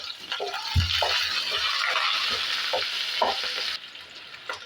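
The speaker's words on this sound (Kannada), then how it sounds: "ಈರುಳ್ಳಿ ಹಾಕ್ತಾಯಿದ್ದೀನಿ. ನಾವು ಚೆನ್ನಾಗಿ ಇದನ್ನು ಫ್ರೈ ಮಾಡ್ಕೊಳ್ಳೋಣ." Onions and urad dal frying in a pan, a loud steady sizzle with stirring clatter and scrapes, ending in a sudden drop to quieter crackling.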